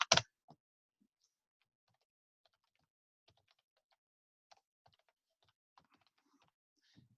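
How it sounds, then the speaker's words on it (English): A loud click opens, then sparse, faint keystrokes follow on a computer keyboard as an email address is typed out, irregularly spaced in a very quiet room. "Or you can type out the entire thing."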